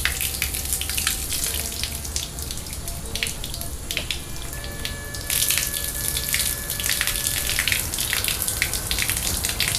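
Water pours from a hose or can onto a potted annual plant in a container, a continuous splashing and trickling stream with shifting drips and patters, close by, running for the full stretch without talk.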